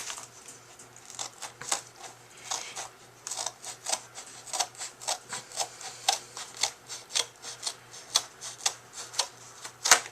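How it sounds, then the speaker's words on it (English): Close-up snips of scissors cutting through paper in a quick, steady series of crisp clicks and slices, with no one talking. "I'm just using the scissors to cut it in half"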